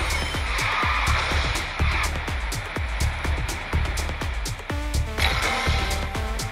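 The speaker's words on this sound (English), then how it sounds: "And another slide drift maybe." Tires skidding as a car slide drifts in the racing game Garena Speed Drifters, with a continuous engine drone, repeated rhythmic thumps and a sustained skid hiss, loud and close throughout.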